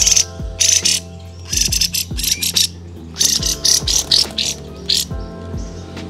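A caged songbird gives a harsh, rasping call in repeated loud bursts, grating pulses broken by short pauses, with faint clicking in the background.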